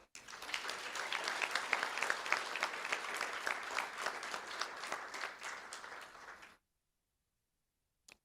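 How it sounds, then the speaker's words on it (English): An audience at a school board meeting claps for honored students, a steady round of many hands at moderate distance lasting several seconds before cutting off into silence. "Let's give them one more round of applause for their remarkable achievement."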